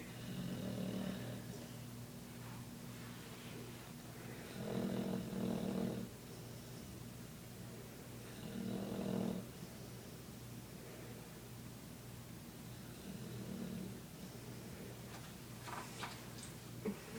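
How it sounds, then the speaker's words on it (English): A sleeping dog snores loudly in slow, regular breaths, each rasping snore swelling for about a second before a quieter pause, repeated several times over a steady low background hum. "Victor, why do you snore so loud?"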